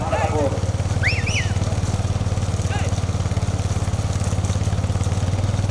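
Honda Activa scooter engine running on a tar road beside a village bullock-cart race, a steady low idling drone throughout with a few brief shouts and whistles over it.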